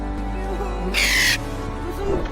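A lost pet parrot lets out a harsh, brief squawk near the middle, with softer bird chirps around it over a steady droning background.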